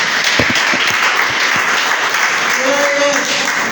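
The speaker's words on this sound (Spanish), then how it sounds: "Denle un aplauso a Él." Church congregation applauding during a sermon, a full, continuous burst of many hands clapping close by, with a faint voice briefly rising near the end.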